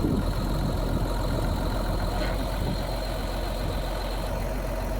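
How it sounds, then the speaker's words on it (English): A tractor engine idles steadily and fairly close by, producing a continuous low rumble with its repaired hydraulics working and no talking. "So you can see the hydraulics are working."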